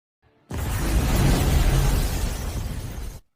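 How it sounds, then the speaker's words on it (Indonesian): A thrown bomb explodes in a sudden loud blast that roars as a broad, noisy rumble for nearly three seconds before cutting off abruptly. "meledak bersama bom yang dilemparkan Mykola ke depan muka"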